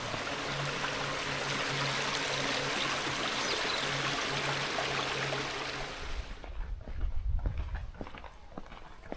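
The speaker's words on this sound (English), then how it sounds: "So there's that little waterfall that we passed on the way up." A small waterfall on the Watkin Path in Wales pours with a steady, full rushing wash for about six seconds, then the roar drops away as low thuds of footsteps take over.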